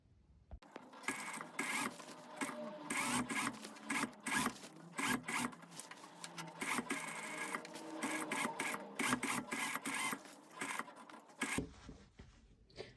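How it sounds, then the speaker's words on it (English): A sewing machine stitches a neck facing in quick, rattling bursts, the motor whirring in start-stop runs of needle clatter before falling quiet near the end. "So we're just going to go and stitch that together."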